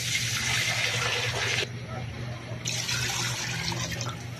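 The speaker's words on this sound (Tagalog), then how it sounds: "Lagyan natin mga kaulam ng tubig" Water runs into a cooking pot as a steady, close splashing pour while chicken tinola is prepared, with a brief dip partway through before the flow continues.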